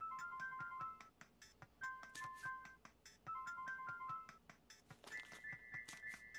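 A video game text message alert in Homestar Ruiner plays a bright, repeating whistle-like melodic jingle, three short phrases and then a higher trill, over faint background game sound.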